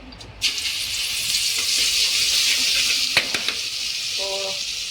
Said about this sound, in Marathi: आता मी हे मिक्स केलेलं तिखट आणि मसाला त्यात टाकणार आहे